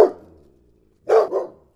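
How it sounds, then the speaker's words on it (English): A dog gives a couple of sharp barks to get a treat, one near the start and a louder double bark later, with quiet between them and no talking. "she was barking to get a treat, which is behavior that I do not want to encourage"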